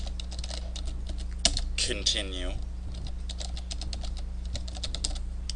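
Rapid, fairly close clicking of fingers typing on a computer keyboard runs throughout, with a brief burst of speech-like voice partway through over a constant low hum.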